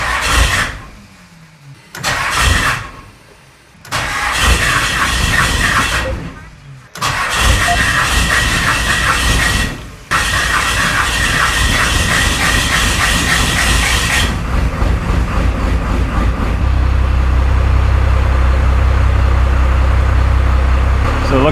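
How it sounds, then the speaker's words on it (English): A 12 valve first-generation Cummins diesel cranks in several short bursts, catches, then settles into a loud, steady idle with a lower rumble toward the end, after head gasket and injector line work. "tighten up all the injector lines and we are ready to fire it up"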